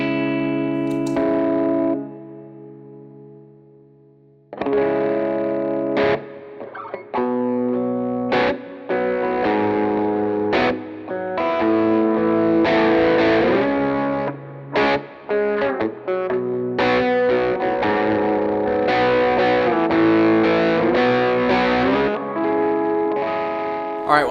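Lo-fi overdrive guitar tone from a Jackson Audio Broken Arrow V2 pedal with the bass and treble cut and the mids boosted, played as loud, thick chords and single notes that ring with effects for over twenty seconds.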